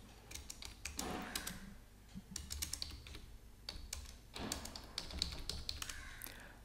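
Quick keystrokes on a computer keyboard as a title is typed into an AutoCAD tool palette, arriving in short bursts of close, crisp clicks with brief pauses between them and no voices.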